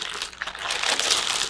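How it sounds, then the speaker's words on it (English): A plastic bag holding modeling clay crinkles and rustles up close as it is folded shut, in a dense burst of crackling that lasts a moment. "you need to put it back in your plastic bag and close it up"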